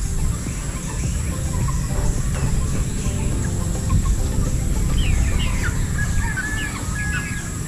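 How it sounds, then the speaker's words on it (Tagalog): Chickens in a poultry house cluck and call intermittently over a loud, steady background rumble, with a few higher chirps toward the end. "Yung mga manok, oh."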